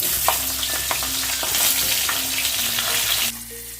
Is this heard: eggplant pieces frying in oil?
yes